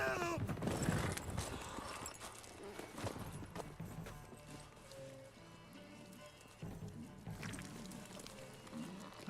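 Horse hooves clip-clopping in The Witcher 3 while a griffin attacks it, with a brief whinny and game ambience, loud at first then quieter, under faint voices.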